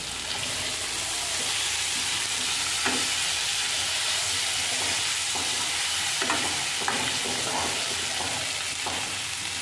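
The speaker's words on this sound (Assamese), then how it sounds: "মাংসটো ফ্ৰাই কৰি আছোঁ।" Meat frying in a pan gives a constant, dense sizzle with a few faint pops and stirring knocks, close and steady throughout.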